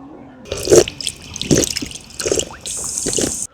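Drinking water gushes and splashes from a free public tap in uneven bursts, close by, with no one talking, at Cook's Cottage in Melbourne.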